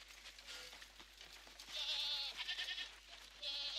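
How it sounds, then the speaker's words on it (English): Goats bleat in the video game Crimson Desert, several fairly close, wavering calls rising over a quiet backdrop, one after another with short gaps between them. "Come on, goats, out of the way."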